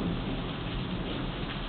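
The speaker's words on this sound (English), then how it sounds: "I love the rain, especially in the summer, because it cools the air." Warm summer rain falls on a stormy night as a steady, dense outdoor downpour with a low rumble underneath, filling the short stretch without a break.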